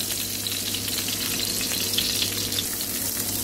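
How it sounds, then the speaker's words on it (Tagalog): Garlic sizzles steadily as it is stirred and fried in a pan, an even, close crackling hiss with no voices. "Ayan, inikos-mekos na natin ang ating garlic."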